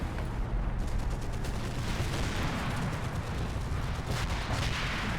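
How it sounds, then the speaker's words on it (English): A Sherman tank fires a shell in the World War II game Combat Mission, set in the Normandy hedgerows. The blast sits within a dense, continuous rumble of battle noise, with repeated sharp gunfire cracks throughout. "that was a Sherman putting a shell in there"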